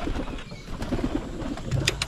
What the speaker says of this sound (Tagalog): Palipa rin natin yung mga kalapati natin mga kaprobinsya oh.